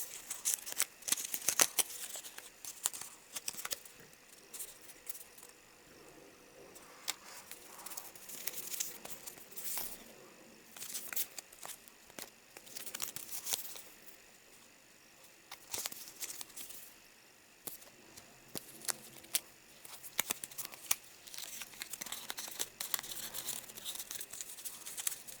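A small paper envelope is handled and opened close up, with soft scattered crinkles, rustles and light tearing sounds in irregular bursts over a quiet background.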